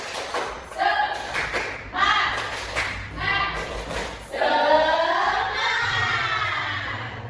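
Schoolchildren perform a rhythmic clapping chant, the tepuk semangat, in a classroom, with bursts of clapping in time alongside loud shouted, chanted voices, ending in a long group shout.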